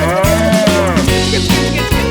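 A cow moos loudly and repeatedly in a strained, song-like rhythm, alone with no talk over it.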